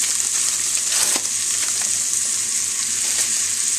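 Steak-umm sliced steak fries in a pan while being stirred, a loud, steady sizzling hiss with scattered spatula scrapes and taps, close and continuous with no talk.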